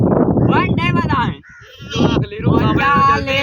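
A black goat bleats loudly and close up, with several wavering, drawn-out cries separated by a brief pause.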